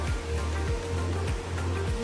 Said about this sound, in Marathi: इथून वरती आल्यावरती ना हा असा धबधबा आहे